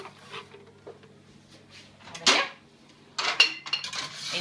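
Washed glass jam jars clink and knock against metal as they are set into an oven to dry at a low temperature, two short clattering bursts over quiet background.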